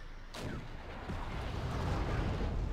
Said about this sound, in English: And just vicious amounts of rockets hit this location.